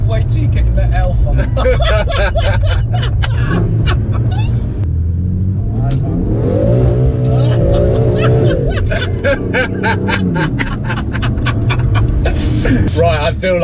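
BMW M3 engine rumbling loud and close, rising in pitch under hard acceleration around the middle, with someone talking over it throughout.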